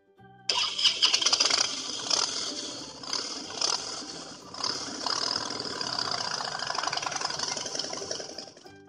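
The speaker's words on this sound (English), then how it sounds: "Motorcycle." A motorcycle engine starts with a sudden burst, then revs in several rising surges before falling back to a buzzing idle, fairly close and alone.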